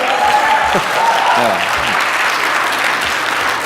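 Congregation applause at a Korean church Sunday service, a dense steady wash of clapping filling the whole stretch, with a few voices faintly audible underneath.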